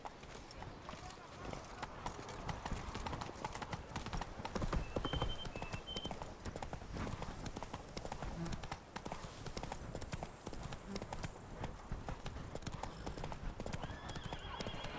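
A horse galloping in The Witcher 3, with dense continuous hoofbeats under ambient game sound, occasional whinnies, and a voice briefly speaking.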